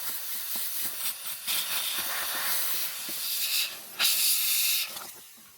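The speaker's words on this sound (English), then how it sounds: "We're going to take compressed air and lightly blow it out and get it nice and clean." Compressed air blasts in short, loud hissing bursts to clean dust from the air intake screen of a 2025 Ski-Doo Summit X Gen 5 snowmobile in a garage, several close puffs with brief gaps and no talking.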